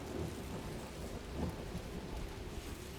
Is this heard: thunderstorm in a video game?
yes